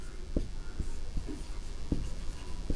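Pen strokes on paper during a Class 7 commercial maths lesson, a series of short, sharp taps and scratches spaced unevenly, soft and close, with no speech over them.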